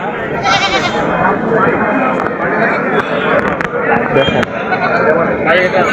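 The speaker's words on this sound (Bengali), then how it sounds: "দর্শক দেখেন ছাগল দুটা কত সুন্দর ছাগল" Goats bleat at a busy rural goat market, the wavering calls rising repeatedly through a dense crowd of voices and chatter close by.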